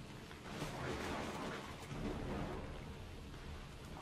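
Stormy weather inside the game Assassin's Creed Odyssey, a steady broadband roar of rain with rolling thunder swelling after the first half second and holding fairly constant throughout, no voices.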